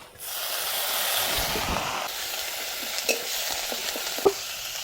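Garlic hits hot oil and bursts into a loud hiss that holds steady, then eases into quieter sizzling with scattered stirring clicks and one sharp tap near the end, for a Bengali snakehead fish curry.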